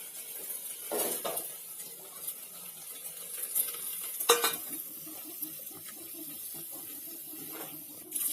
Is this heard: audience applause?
no